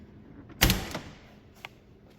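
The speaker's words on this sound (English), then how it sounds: "just got to reach in here and pop the door open" A car door on a 1940 Ford Coupe is popped open with one sharp mechanical clunk, followed moments later by a smaller latch click, close and fairly quiet.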